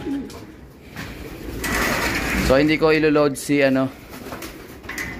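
Racing pigeons coo in short throaty bursts close by after a training toss, with someone speaking and some mechanical clicking in the background.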